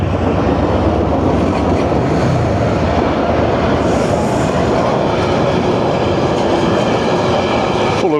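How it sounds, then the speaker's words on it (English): A loaded goods train rumbles steadily past a level crossing, its wagons clattering in a continuous, loud, close roar with rhythmic clickety-clack and occasional wheel squeal, no voices over it. "it's a goods train"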